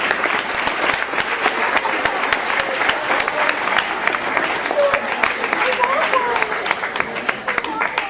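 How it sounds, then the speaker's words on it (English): Wedding guests break into sustained applause at the reception, dense close clapping with crisp individual claps standing out and some background voices. "Please give Beth a very well-earned round of applause for planning tonight's wedding."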